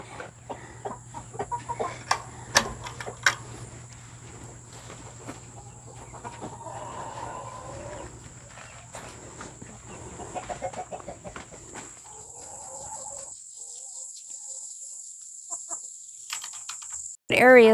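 Black Copper Marans hens cluck softly and intermittently inside a backyard coop, with sharp scattered clicks and rustles and a steady electrical hum beneath, ending in a brief loud clatter.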